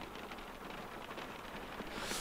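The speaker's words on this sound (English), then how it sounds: "I just love the sound of rain" Steady rain pattering on a truck cab in Euro Truck Simulator 2, a continuous dense hiss of drops with no other sounds, slightly louder toward the end.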